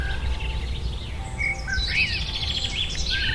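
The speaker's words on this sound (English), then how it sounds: "The sound of birds tweeting in a wood" Birds chirp and tweet in short, bright calls in a wood over a soft outdoor hush, several songs overlapping at a moderate distance.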